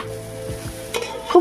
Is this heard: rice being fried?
yes